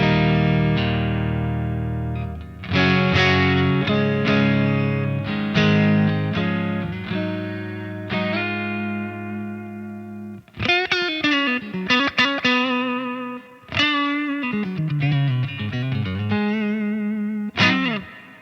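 An electric guitar with a Seymour Duncan Diamond Head pickup plays a clean source tone with slight hair through a Rev D20 amplifier: sustained ringing chords first, then bent and picked lead phrases with sharp attacks, loud and alone.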